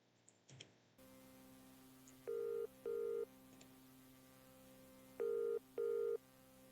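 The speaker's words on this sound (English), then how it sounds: "it's a phone ringing" A telephone rings on the line in a horror setting: two pairs of short, steady electronic ring tones over a constant low hum, with a brief click near the start.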